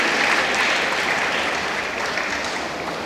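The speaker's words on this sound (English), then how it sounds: "let us give a big round of applause to the graduating students" Sustained applause from a large audience at a medical college graduation day ceremony for graduating students, a dense steady wash of clapping that fades slightly toward the end, with no talk over it.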